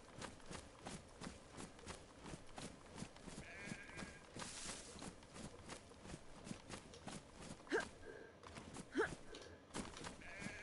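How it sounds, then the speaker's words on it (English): Faint sheep bleats sound a couple of times in the video game DayZ, over rhythmic footsteps and soft background noise. "I thought it was a sheep."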